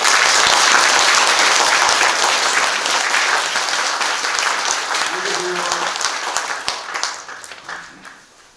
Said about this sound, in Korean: 고생 많이 하셨다고 우리 격려의 박수 한번 쳐주세요